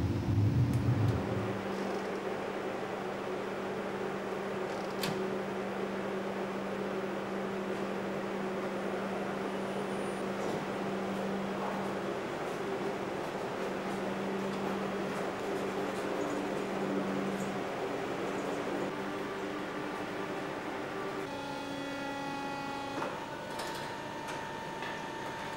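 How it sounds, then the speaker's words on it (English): ABB electric mining truck driving underground at the Zinkgruvan mine, a steady low whine and drone that holds for the whole stretch, with a few faint ticks and clicks near the end. "I really like driving this truck. It's powerful, low noise and good environment."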